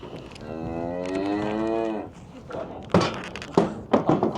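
A cow on a family farm moos loudly in one long, wavering call lasting about two seconds, followed by clunks and knocks of farm handling with people talking nearby.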